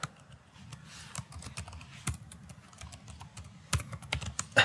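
Someone types C++ code on a computer keyboard with quick, uneven bursts of key clicks and brief pauses, fairly quiet and close.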